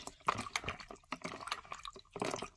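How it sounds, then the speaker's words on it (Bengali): Dates being rinsed in water, with splashing and dripping in irregular bursts, close and moderately loud with brief pauses between handfuls. "খেজুরগুলো ধুয়ে নিচ্ছি"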